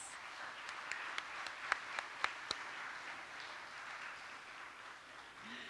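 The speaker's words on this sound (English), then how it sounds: "Let's give them a round of applause." Audience at the Choctaw Nation Princess Pageant applauds faintly from a distance, a soft wash of clapping with a few sharper individual claps standing out near the start, no talk over it.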